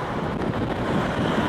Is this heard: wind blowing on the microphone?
yes